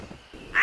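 A crow caws once in a Hindi cartoon, a short harsh call rising sharply at the end of a brief, quiet moment with faint background hum.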